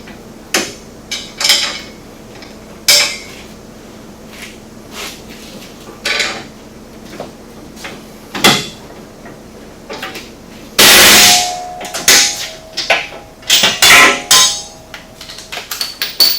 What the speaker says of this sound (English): I'm going to go ahead and insert these 2 upper bolts before I tighten those down